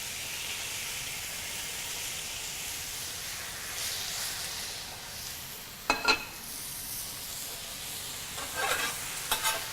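Lamb with tamarind paste frying in a pan, a steady low sizzle with scattered scraping stir strokes that cluster near the end, no voices.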